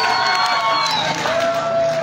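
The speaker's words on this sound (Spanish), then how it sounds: "¡Otro aplauso para esta esquina!" A festival crowd at Santa María Malacatepec's September 16 festivities cheers and shouts for a corner, a sustained loud roar of voices with whoops and scattered clapping throughout.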